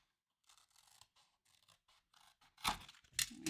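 Scissors fussy cutting a paper image for a handmade card: soft, irregular snips and paper rustles close by, building to a few sharper cuts near the end, with no talk.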